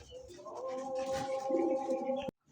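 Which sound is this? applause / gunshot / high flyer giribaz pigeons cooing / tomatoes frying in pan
high flyer giribaz pigeons cooing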